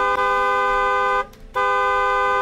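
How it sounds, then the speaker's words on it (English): Car horn from an indie video game blaring in two long steady honks separated by a brief pause, loud and close, with no voices. "I don't like honking my horn"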